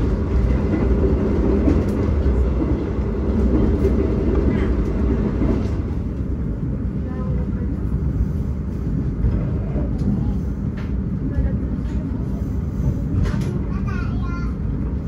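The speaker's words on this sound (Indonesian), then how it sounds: "Perjalanan kereta api Sawunggali yang saya naiki telah tiba di stasiun Linggapura" Interior rumble of the Sawunggalih passenger train rolling into Linggapura station, a steady low drone with rattling carriage noise throughout and a softer, slowing stretch as it arrives.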